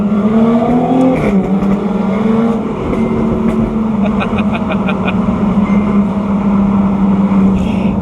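A loud Jaguar F-Type S exhaust, valves open in sport mode, drones and rises in pitch while passing under a bridge, its roar echoing with a boomy, enclosed quality, alongside steady road noise.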